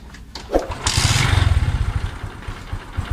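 A Kawasaki Rouser 135 motorcycle engine cranks briefly, then catches and runs with a steady throbbing idle, close and fairly loud, with no talk.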